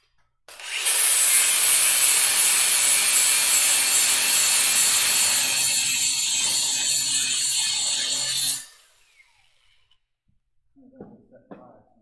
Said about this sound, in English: All I'm doing, you don't have to cut through the whole bearing, I'm just cutting through the actual bolt.